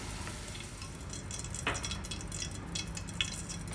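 Dry fruits fry lightly in ghee with a soft, steady sizzle, broken by a couple of sharp clinks of a spoon against the pan.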